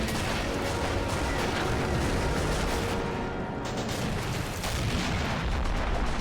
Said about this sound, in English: Artillery is continuing to shell them